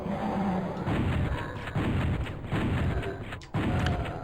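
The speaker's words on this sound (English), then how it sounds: "See, the fire rate on the shotgun is much faster." Shotgun blasts in Saturn DOOM, several booming shots fired in quick succession over dense, loud game noise and music.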